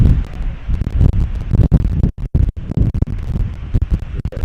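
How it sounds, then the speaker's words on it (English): Strong wind buffets the microphone at the top of a lighthouse beside a ship's channel, loud low rumbling gusts with brief near-silent lulls between them. "Very windy day."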